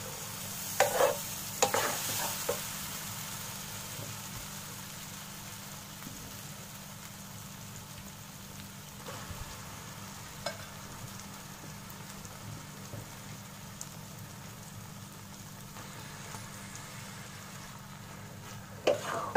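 Minced meat keema being stirred into sizzling masala in a pan on low heat: a continuous crackling fry with intermittent scraping stirs, steady and close.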